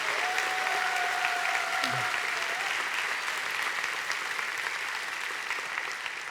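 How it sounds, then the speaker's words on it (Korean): A church congregation at a Sunday afternoon service applauds loudly and steadily throughout, a dense wash of clapping with a faint tone passing under it. "다시 한번 하나님께 큰 영광의 박수를 돌립니다"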